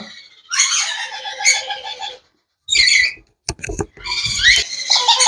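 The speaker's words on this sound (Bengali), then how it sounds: "এই যে কনুর পাখি নিয়ে আসছি নতুন মিউটিশনের একটা কনুর পাখি" A new-mutation conure parrot gives harsh, squawking calls in several close, loud bursts separated by short gaps.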